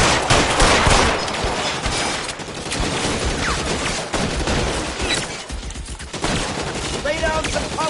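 A sustained firefight in the LA Noire crime game rages loud and close, rapid overlapping gunshots and automatic bursts with no real pause, voices faintly buried beneath the shooting.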